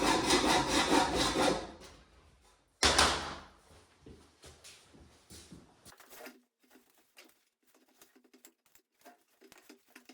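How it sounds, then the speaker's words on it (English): A welding fume extraction hose cut to length makes two rough, rasping bursts of cutting, followed by scattered light clicks and handling taps. "So we're gonna cut it off right there."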